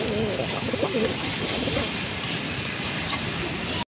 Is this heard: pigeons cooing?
yes